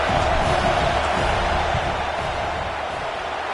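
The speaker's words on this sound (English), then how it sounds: "This crowd trying to do its part to get inside the kicker's head." A stadium crowd roaring loudly and continuously during a college football field goal attempt at Iowa against Utah, a dense, sustained wall of noise.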